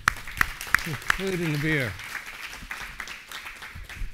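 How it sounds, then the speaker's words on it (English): An audience at a meetup claps for the hosts: a short burst of applause with a few distinct loud claps, then someone speaks while faint clapping fades beneath his voice. "another round of applause for our hosts"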